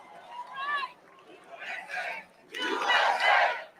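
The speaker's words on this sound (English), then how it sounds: "Are they cheering for somebody out there? They're cheering for Jeremy." A crowd at a Trump rally in Hialeah, Florida, cheers and yells in rising bursts, some distance off, with louder swells toward the end.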